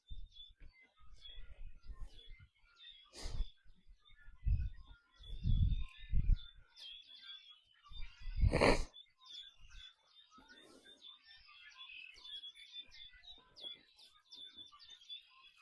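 Faint birds chirp steadily in the background with a thin high twittering, while soft thumps and footsteps sound nearby.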